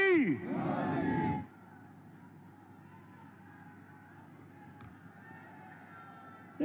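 A large crowd at a Prime Minister Modi rally in Gorakhpur chants his name in a loud, rhythmic roar that lasts about a second and a half, then falls to a distant murmur of hubbub.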